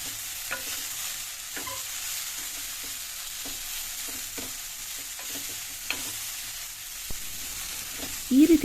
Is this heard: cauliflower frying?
yes